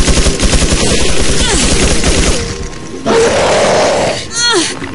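A rapid, loud burst of minigun fire from Resident Evil 4: Assignment Ada rattles continuously for a couple of seconds, then gives way to whooshing and a short squealing effect.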